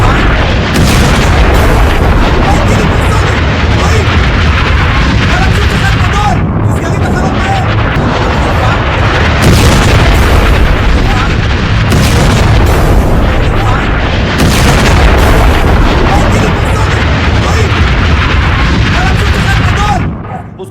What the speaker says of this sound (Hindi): ईरान मिसाइल जो तेल अवीव पर गिरी